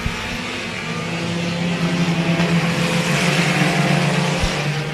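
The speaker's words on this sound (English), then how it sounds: "Kyle Janis gets this race started in turn 4." A pack of dirt-track race cars at Pennsylvania Motor Speedway roars as the race starts, with loud, building engine noise from many cars blending into a continuous throaty drone.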